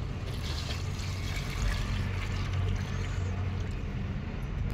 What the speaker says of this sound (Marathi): आणि आता ह्यामध्ये गरम केलेलं पाणी टाकूया